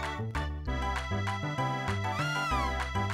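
A cat gives a single drawn-out falling meow in the video game Chrono Trigger DS, heard over steady stepping background game music.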